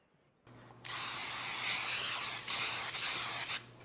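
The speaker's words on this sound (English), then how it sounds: "We're going to spray that puppy down, get it lubed." After a faint click, a steady hiss of aerosol cooking spray onto a baking dish lasts about three seconds, then stops abruptly.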